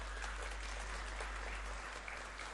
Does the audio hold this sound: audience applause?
yes